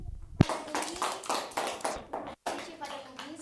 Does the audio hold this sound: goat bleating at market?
no